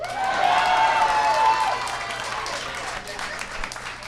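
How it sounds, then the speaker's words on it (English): Audience clapping at a live comedy podcast taping, a moderate burst of applause mixed with crowd noise and someone talking over it. "I saw people who said boo now clapping."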